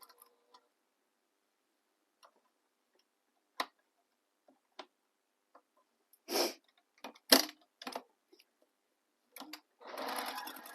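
A sewing machine stitches through bag material in short separate bursts, with faint ticks early on and a longer, steadier run of stitching at the end, close by and fairly quiet.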